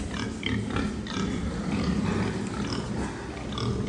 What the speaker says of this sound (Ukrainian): Ось у нас свинки відібрані для осініння